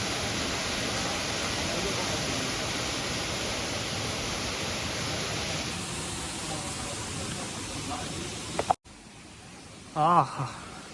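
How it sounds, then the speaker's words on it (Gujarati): A waterfall near the Dhank Nagbai Mata temple gives a loud, steady broadband roar for several seconds, then cuts off abruptly, leaving quieter surroundings and a brief voice. "પાણીના ધોધ પડે"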